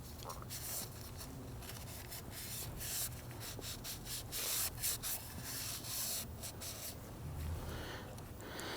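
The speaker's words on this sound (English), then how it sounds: "I'm going to use a shop rag." A shop rag rubbing around the perimeter of the oil filter housing on a 2009-2017 Volvo XC60 during an oil change, making soft continuous scuffing and wiping strokes, close, with faint background noise.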